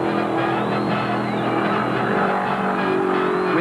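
Flat-out NASCAR stock cars at the 1975 Winston 500 at Alabama International Motor Speedway, engines screaming in a steady high-pitched roar with a faint doppler sweep as they race down the back straight.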